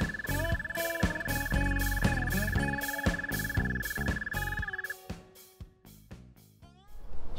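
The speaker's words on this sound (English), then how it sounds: "Frog?" Frogs croak in a loud, rhythmic chorus outdoors on public land during a spring turkey hunt, pulsing calls repeating close by with a sustained trilling tone that fades out toward the end.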